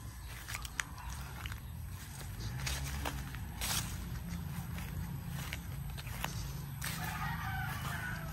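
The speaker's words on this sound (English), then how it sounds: "That's our neighbor's chicken." Neighbouring farm chickens on a rural Philippine farm, clucking and crowing at moderate distance over steady outdoor background noise, with no talking.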